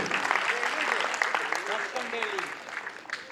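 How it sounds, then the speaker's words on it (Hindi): A seminar crowd claps in a sustained wash of applause while someone speaks loudly over it, his voice prominent above the clapping. "एक जोरदार तालियां होनी चाहिए।"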